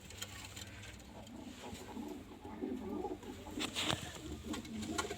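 Pigeons in a loft cooing in soft, low, throaty murmurs, faint against a quiet background with an occasional light metallic clink.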